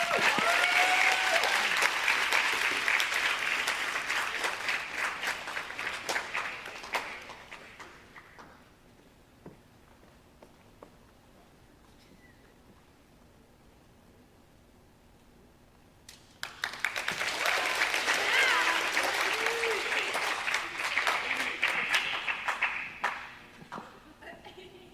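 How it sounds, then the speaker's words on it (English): Applause from a crowd at a school spring awards ceremony fills the room, fades into quiet for several seconds, then bursts up again loudly before tapering off. "Please give a round of applause"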